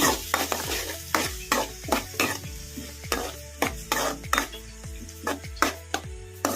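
Chopped onions fry in hot oil in a pan over a medium flame for a restaurant-style handi chicken gravy, a spatula scraping and stirring in steady, repeated strokes against a continuous close sizzle, with no talking.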